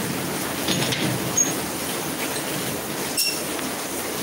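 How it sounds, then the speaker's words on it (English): Heavy rain from Tropical Storm Grace falls in Jamaica, a steady, dense hiss of downpour running throughout with a couple of brief sharper splashes or squeaks, no voices. "Now the rainstorm, Jamaica, tropical grace storm."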